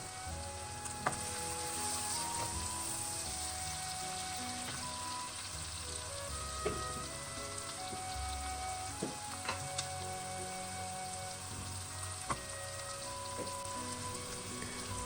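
Onions and peppers cook down in a pan with a steady, close sizzle and crackle, punctuated by a few light spatula taps and scrapes.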